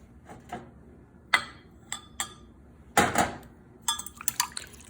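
Warm water, honey and yeast being mixed in a bowl for woodfired pizza dough, heard as a few sharp clinks and scrapes of a utensil against the bowl with soft liquid swishes between them.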